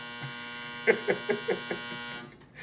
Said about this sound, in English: My bad, that's my dryer.